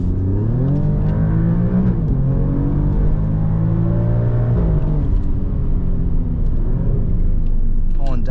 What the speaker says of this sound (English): Pulling downshifts for us there